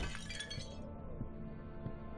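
Glass object shattering in the horror video game Amnesia: The Dark Descent, a single crisp breaking crash with tinkling fragments that trail off, set against a low ambient rumble.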